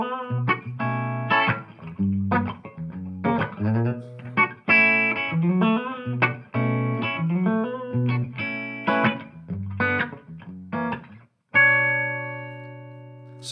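A hollow body electric guitar played through an amplifier runs a melodic line of plucked notes and chords with a slightly driven tone, ending on a sustained chord.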